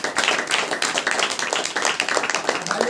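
A church congregation claps their hands in praise during a Saturday worship meeting. The clapping is dense and steady, with many overlapping hands sustained throughout and no talking on top.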